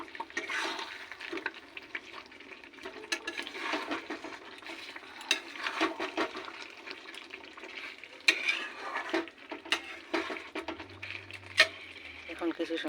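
Fried chicken and potato are stirred into a spice paste in a hot pan, with continuous scraping and stirring over a faint sizzle, close and moderately loud.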